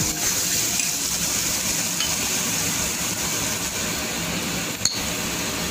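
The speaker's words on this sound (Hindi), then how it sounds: "कलर चेंज होने तक फ्राई करें।" Garlic paste and sugar frying in a pan, a steady, even hiss and sizzle that carries on without a break and stays fairly close and moderately loud.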